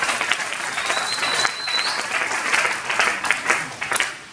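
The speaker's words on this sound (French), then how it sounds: "Acclamons très fort pour Jésus." A church congregation applauds for Jesus, with dense sustained clapping from a crowd in a hall and a few faint voices mixed in.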